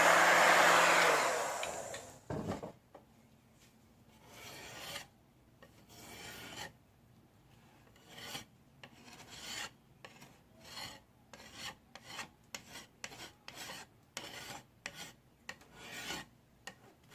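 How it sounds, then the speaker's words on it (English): A scraper works over old teak boat woodwork, close and fairly faint, in a series of short irregular rasping strokes. A brief louder blowing rush at the very start precedes the scraping. "Okay, so this one is all scraped down,"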